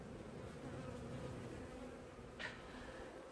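Honeybees buzz at a small hive entrance beside a nucleus colony, a steady close drone. One bee zips past briefly, and no one talks.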